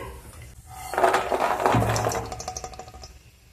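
Roasted cashews and almonds being scraped out of a pan for methi laddoos, a run of close metallic clinks and scraping of a spoon against the pan, loudest in the middle and tapering into lighter taps.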